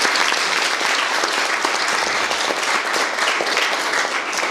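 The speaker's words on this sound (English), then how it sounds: "A round of applause for all our docents in the room." An audience at a museum ribbon-cutting gives the docents a round of applause, dense continuous clapping from many hands that holds steady and fairly loud throughout.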